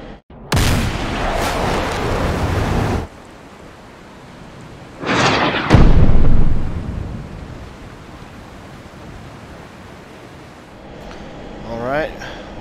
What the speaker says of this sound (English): Alright, missile away.